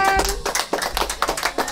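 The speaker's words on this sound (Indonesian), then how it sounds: "diberi tepuk tangan" A small group claps for a woman from the welfare office as she is introduced at an Indonesian community gathering, with uneven rhythmic claps under faint talk.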